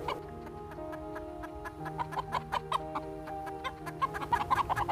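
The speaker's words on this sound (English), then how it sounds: "chickens are scaring the skunks away" Several chickens cluck in quick, overlapping bursts close by, on alert at nearby skunks, their clucks growing busier and more insistent toward the end.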